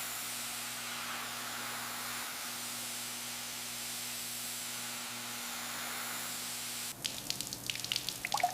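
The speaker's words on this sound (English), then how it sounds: "Use more water, let's rinse it all down." Water sprays and hisses steadily while rinsing a 1955 Chevrolet Tri Five part during cleaning, a continuous close wash under a low hum, turning to splashing and dripping near the end.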